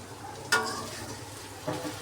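Snake gourd (chichinga) frying in a little oil in a pan, with a quiet steady sizzle broken by two sharp scrapes of stirring, close up.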